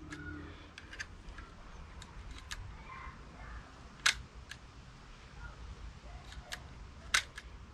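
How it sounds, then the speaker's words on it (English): Voigtlander Bergheil folding 6x9 camera shutter firing, a few sharp close mechanical clicks with lighter ticks from handling between them, set against a faint background hiss. "So I'll just test the shutter now."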